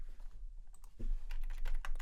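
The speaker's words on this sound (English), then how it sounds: "Zoom in using the keyboard 3 times." Several sharp computer keyboard key presses while zooming in on a screen, close and crisp, with brief irregular gaps between them and no talking.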